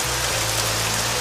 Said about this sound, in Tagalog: Konting patila lang po sa ulan na iyan.